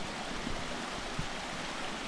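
Stream water flowing past a small bridge in a village, a soft, even rush of running water heard at low level with no voices.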